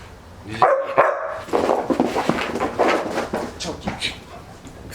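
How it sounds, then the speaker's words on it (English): A pet dog barks loudly and excitedly in a home, a few sharp barks then a rapid run of yaps close by, with some household noise. "If I leave him in the cage, he barks. If I have him out, he barks."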